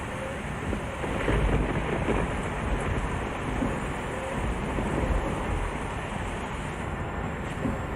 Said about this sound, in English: Wow, that thunder, man. That's so realistic.